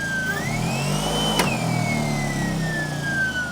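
A 1982 Unique Mobility Electrek electric car accelerates, its motor giving a clear rising whine that climbs in pitch and then slowly eases down, alone and fairly near, with one brief sharp click midway.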